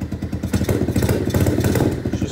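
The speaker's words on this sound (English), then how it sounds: "Give y'all a little rev." Revving from a KP Mini motorcycle with an upgraded exhaust, the still-cold engine rising and falling in short throttle blips with a rough, throaty clatter, close and loud.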